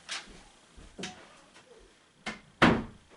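Household door being pushed shut indoors, a few scattered knocks and thumps ending in one louder close, with no talking over them.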